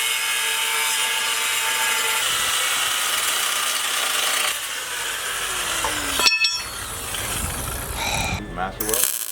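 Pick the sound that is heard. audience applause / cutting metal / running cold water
cutting metal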